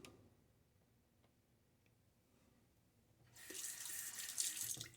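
A bathroom sink tap is opened after about three seconds of near-quiet with faint ticks, and water then streams steadily and close by, splashing into the basin at moderate volume.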